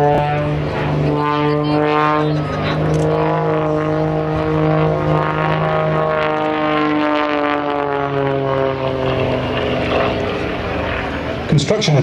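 A 315-horsepower aerobatic propeller plane climbs steeply at an airshow, its engine droning loud and steady with the pitch gradually sliding as it pulls away, while a voice talks over it throughout.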